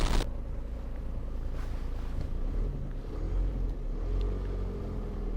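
Exhaust of a Ford Ranger desert truck rushes steadily through its stock muffler, a loud, continuous low rumble and airy roar heard up close from behind the truck, with no talking.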